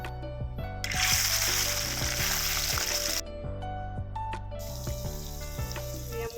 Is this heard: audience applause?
no